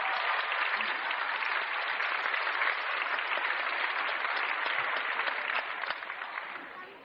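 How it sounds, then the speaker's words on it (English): Sustained audience applause at the Nam Wai Pai Grand Tournament 10th anniversary, a dense, even roar of clapping from a crowd that holds steady and then fades slightly at the end. "Give them a clap."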